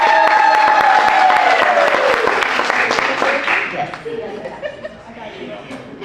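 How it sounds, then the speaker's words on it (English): Applause from a community gathering crowd in Pflugerville, loud at first and tapering off. Voices, a few laughs and murmurs run through it as the clapping fades. "Let's give her another round of applause."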